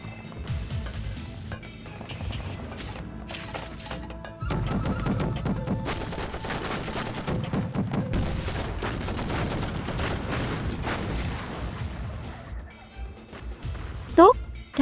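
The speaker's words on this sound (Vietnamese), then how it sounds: "Ba khẩu pháo. Không cần bắn thử, bắn gấp 6 loạt liên tiếp." Rapid bursts of cannon fire from three field guns hammering a Japanese position, dense overlapping blasts filling the scene under loud battle noise, with voices calling out.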